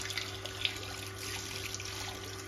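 Water splashes and trickles in a muddy field canal during fish catching, with small irregular splashes over a low steady hum and a faint, continuous watery background.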